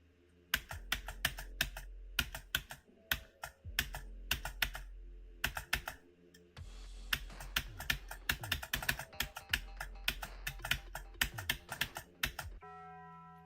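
Keyboard keys are pressed in rapid bursts while playing a game, loud close clacks in fast rhythmic runs separated by brief pauses.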